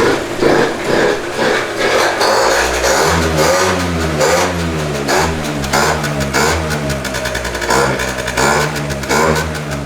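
A Derbi GP1 scooter engine cold-starts and revs repeatedly through a new exhaust pipe and racing variator, loud and close, with the buzzy pitch climbing and falling in cycles and carburetor noise prominent throughout.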